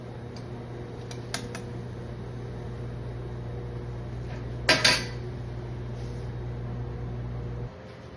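Fried batata vada are moved onto a plate in a kitchen, with a few light metal clinks of a utensil and one sharper clatter against the plate over a steady hum of a fan.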